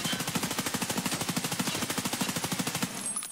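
M4 rifle firing full auto in a video game, a fast, even stream of about thirty close, sharp shots with no pauses, played alone.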